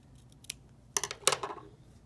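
Scissors snipping through craft paper while a cartoon face piece is trimmed at a library craft session: a couple of sharp, close cuts in quick succession, loud and clear against a quiet room with no talking.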